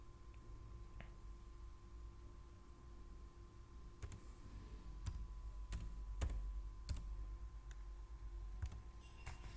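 A username and password are typed on a computer keyboard, making quiet, irregular key clicks and taps scattered over a low steady hum, with no talking.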